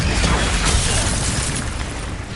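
An Incendio fire spell bursts in Hogwarts Legacy, a loud, dense whooshing roar of flame that fills the short moment at full strength and eases slightly toward the end, with no voices.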